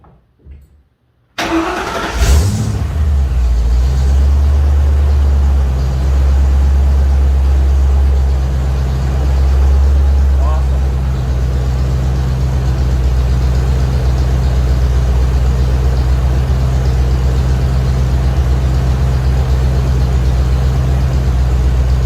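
A 1956 Ford F-100 pickup engine cranks and catches after a moment of quiet, then runs loud and steady at a rough rumbling idle for a long stretch, close by with no talking.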